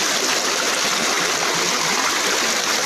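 Stream water flows steadily down a rain-fed channel in rural northeastern Thailand, a continuous close rushing and trickling wash with no pauses and no voices.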